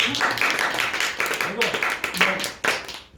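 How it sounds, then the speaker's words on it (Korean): A small class at a Bible lecture on the Psalms claps for a participant's answer; a few short bursts of close, uneven clapping broken by pauses, with voices talking between them. "우리 박수 한번 쳐주죠"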